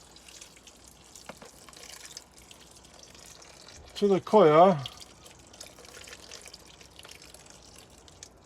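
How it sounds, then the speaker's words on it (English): Warm water poured onto a dry compressed coir seed block that swells to about 10 litres, a short watery splash and pour lasting under a second, with someone talking before and after. "So my first job is adding the warm water"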